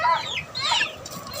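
Fighting chickens cluck and chatter in short overlapping bursts after being dewormed, close and fairly loud with no talking.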